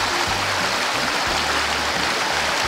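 River water flows steadily downstream past driftwood under dappled trees, a continuous loud rushing wash with no breaks and no voices.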